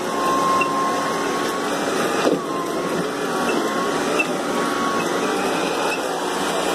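An Electrolux vacuum cleaner nozzle runs steadily nearby, a constant whirring motor drone with a thin high whine and brief dips in level.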